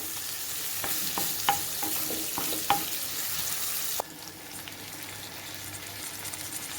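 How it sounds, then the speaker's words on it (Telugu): Cut tomatoes cooking in hot oil for a Guntur-style chicken curry, a steady close sizzle with several sharp knocks and scrapes of a stirring utensil, then a quieter, softer hiss after a sudden drop. "టమాటోస్ కొంచెం మెత్తబడ్డదాకా ఆయిల్లో మగ్గించుకోవాలి"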